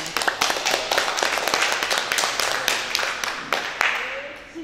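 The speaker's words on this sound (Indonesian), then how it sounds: "Tepuk tangan." A group of people clap their hands in a classroom for a short, dense burst lasting several seconds, with many overlapping claps that stay steady and then trail off near the end.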